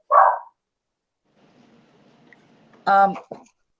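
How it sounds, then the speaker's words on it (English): A dog in a home barks once loudly and nearby, then after a pause lets out a second bark and a short yip, with faint low background noise between the barks. "Can you please keep that dog quiet?"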